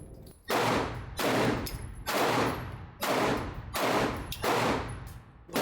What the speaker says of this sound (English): let's go ahead and put first rounds for the Canik Prime